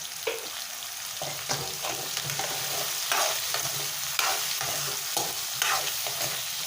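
Chicken pieces seasoned with salt and pepper fry in a pan for chicken Manchurian. A steady, close sizzle is broken by repeated scraping stirs that come every second or so.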